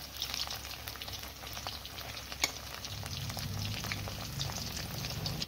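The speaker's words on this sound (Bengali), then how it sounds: "এদিকে পনির ভাজতে দিয়ে দিয়েছি।" Paneer fries steadily in hot oil in a pan, giving a continuous soft crackling sizzle with scattered pops and one sharper spit, close and alone without any talking.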